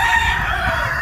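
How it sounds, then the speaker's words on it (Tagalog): Chickens in a coop pen, readied for a buyer ahead of Christmas, crowing and clucking continuously at close range, a rooster's crow standing out over the busy flock. "Ito mga manok na yun."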